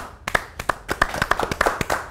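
A small studio audience claps to greet two special guests, a lawyer pair, on a talk show, giving sharp, distinct, close-up hand claps in a quick uneven rhythm of roughly a dozen strikes.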